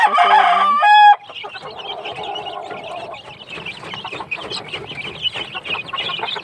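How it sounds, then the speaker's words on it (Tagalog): A rooster crows loudly at the start, then chickens and young chicks cluck and peep close by in a busy, irregular chatter. "Yung mga sisiw natin."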